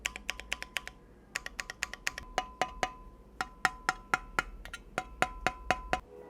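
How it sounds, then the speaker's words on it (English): Typing on a Keychron Q1 mechanical keyboard whose keys give off a metallic, tin-can ping, a quick irregular run of crisp clacks with ringing overtones, close and fairly quiet with no voices. "the alphas sound pretty good, but once you reach the edges toward the modifiers, you start getting that ping"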